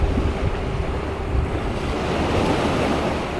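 Wind blows hard by the sea, buffeting close against the microphone in a continuous rough rush, with surf and waves washing underneath at a steady level.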